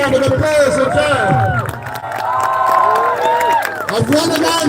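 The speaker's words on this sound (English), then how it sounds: "Big round of applause again." Crowd at a Palestine solidarity rally in Manchester, with sustained clapping and cheering that carries on steadily alongside overlapping voices and shouts.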